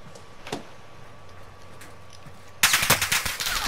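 Video game gunfire: a few scattered shots at first, then a loud burst of rapid automatic fire close by in the final second.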